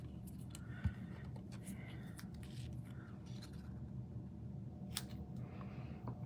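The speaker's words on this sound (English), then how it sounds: "I'm simply going to cut these in half at an angle." Scissors snip through pieces of designer series paper, cutting them in half at an angle. A few faint, scattered snips sit over a steady low room hum, and a soft voice murmurs nearby.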